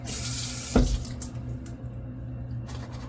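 A tap runs into a sink, a steady soft rush of water with a brief splash near the start, no talking.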